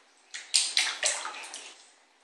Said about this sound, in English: You got some good splashes.